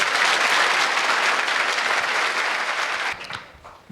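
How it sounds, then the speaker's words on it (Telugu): Students in a school audience clap together during a personality development speech, a loud, dense burst of applause that holds steady and then stops abruptly, leaving a few scattered claps. "చప్పట్లు కొట్టాలి."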